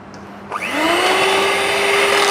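An electric mixer grinder spins up to grind sugar, starting abruptly and holding a loud, steady high whine with no talk.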